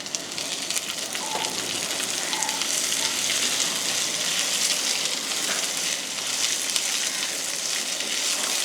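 Garlic, ginger, urad dal and chana dal tempering in hot oil in a temple kitchen give a steady, close, crackling sizzle that runs unbroken throughout, with no voices.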